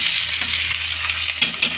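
Chicken pieces and a little ginger fry in a pan with a bright, constant sizzle. Stirring scrapes and clatters cut in now and then, and nobody speaks.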